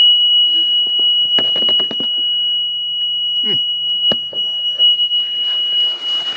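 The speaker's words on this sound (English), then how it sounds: "There's an alarm going off up in the cab" A continuous, steady high-pitched alarm tone sounds in a tractor cab, unbroken throughout, with clunks and clatter of handling and a brief voice underneath.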